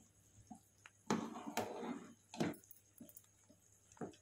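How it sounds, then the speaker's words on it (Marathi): Curdled milk for homemade paneer being poured through a strainer, heard as a few splashy gushes and scattered drips of whey, close and moderately loud. "आता आपण हे चाळणीवरती वतून घ्यायचं आहे"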